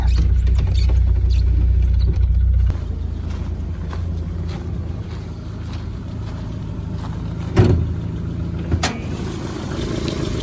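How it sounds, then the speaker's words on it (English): A Toyota Corolla AE71/TE72 engine idles steadily nearby, a smooth low rumble with a few small clicks and knocks over it. "It started purring like a baby."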